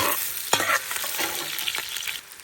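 Salo cracklings fry in a cauldron over a campfire. A loud, close sizzle hisses steadily, broken by a few sharp stirring scrapes and clinks.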